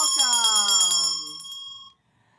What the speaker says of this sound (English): I'm going to ring my bell again.